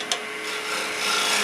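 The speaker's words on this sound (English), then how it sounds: "I'll switch over to my 1-inch round nose scraper and start with it" A 1-inch round nose scraper cutting wood on a lathe, a close, steady abrasive rasp that builds slightly over a brief moment after a small tap at the start, no talking.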